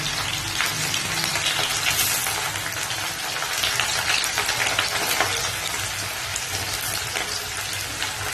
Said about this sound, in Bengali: গরম তেলের মধ্যে দিয়ে দিচ্ছি 1 টেবিল চামচ জিরে ফোড়ন, আর তার মধ্যেই এখন দিয়ে দেবো কেটে রাখা পেঁয়াজ কুচি